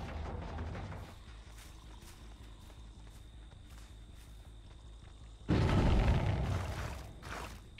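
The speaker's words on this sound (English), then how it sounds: "Was that an explosion?" A sudden loud boom of a generator exploding in Dead by Daylight bursts out after a stretch of quiet footsteps and ambient game noise, then slowly fades.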